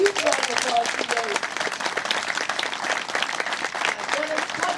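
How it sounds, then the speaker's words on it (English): Employees give a sustained round of applause at a memorial bridge celebration, dense steady clapping throughout with a few voices calling out over it. "So huge round of applause today."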